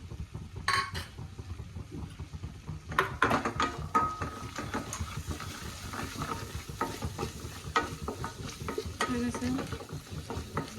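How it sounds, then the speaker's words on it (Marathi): Garlic and ginger paste frying with onion puree for a potato gravy, with busy stirring and scraping in the pan, sharp utensil clinks against the pot, and a sizzle running underneath throughout. "त्यामध्ये मी आता ही लसूण आणि अद्रकची पेस्ट टाकून घेते।"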